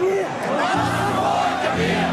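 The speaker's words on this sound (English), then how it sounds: "An overwhelmed Ghonim stood up on a car to lead the crowd in a chant." A large crowd in Tahrir Square chants together in loud, massed voices with a rhythmic pitched cadence, close and dense throughout, led by one man standing on a car.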